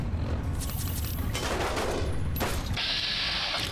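Enemies firing at the player in the Fallout mashup A Tale of Two Wastelands, inside a technology museum: dense rapid gunfire bursts with sharp cracks and mechanical clatter, loud and close.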